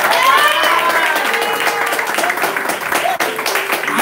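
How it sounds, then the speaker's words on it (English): An audience at a church gospel service applauds, a dense sustained wash of clapping and crowd noise at fairly close range, with voices mixed into it throughout. "Can we clap for them?"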